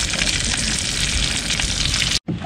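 Fish sizzles in a frying pan, a close, steady crackle of hot oil spitting that runs strongly before a brief sudden dropout near the end, then resumes.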